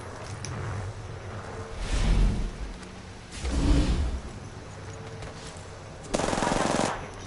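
Gunfire in the battle game Apex Legends: rapid automatic bursts come in three loud volleys between stretches of quieter action, the last burst sharp and close.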